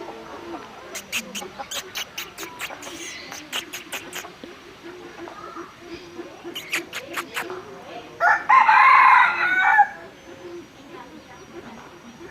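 A domestic rooster at a zoo crows once, loud and close, over a backdrop of rapid bird clicks and chirps, with quieter background activity around it.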